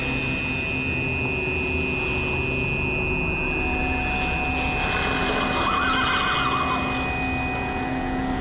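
A horse whinnies over a steady bed of noise, with a thin sustained tone running throughout.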